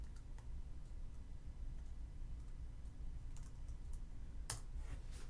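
Fingers tap on a computer keyboard while entering text into MATLAB, a string of light quiet clicks with a sharper burst of keystrokes toward the end over a low room hum.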